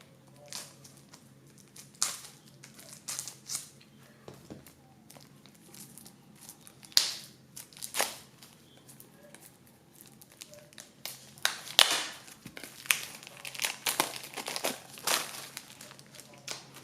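A Tarot du Graal card deck of thin cardboard cards being unwrapped, with intermittent close crinkling and short tearing bursts of packaging that come in irregular clusters against a quiet background.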